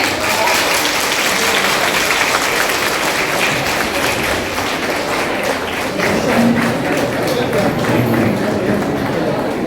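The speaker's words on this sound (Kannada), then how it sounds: "ಜೋರಾದ ಚಪ್ಪಾಳೆ." An audience at an event breaks into loud, continuous applause, a dense wash of clapping that holds steady throughout, with a voice faintly heard beneath it.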